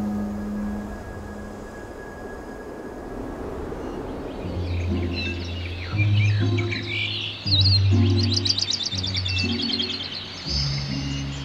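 Hawaiian forest birds sing in a dense, steady chorus of chirps and trilling calls, with louder, nearer tonal phrases and quick rapid trills rising over the background from midway on.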